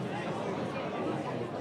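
A crowd mumbles steadily at a state AA baseball game between West Fargo and Fargo Post 400, a dense, even murmur of many voices with no single voice standing out.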